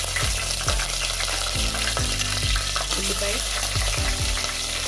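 Green chillies fry in hot sesame oil for a fish curry, giving a loud, steady sizzle throughout, with several sharp scraping clacks of a spoon stirring against the pan. No talking is heard.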